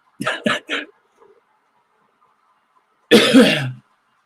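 A quick run of three hacking coughs, then quiet, followed by a longer rough throaty cough or throat clearing, close and loud.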